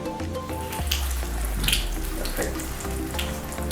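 Potato croquettes fry in a pan of about 100 ml of hot oil, giving a steady sizzle with bubbling crackles, close and moderately loud.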